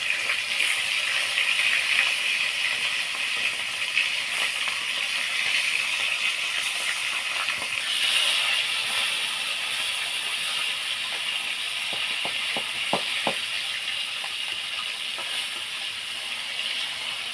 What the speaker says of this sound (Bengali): এবার মাছগুলো আমি তেলের মধ্যে দিয়ে দেবো।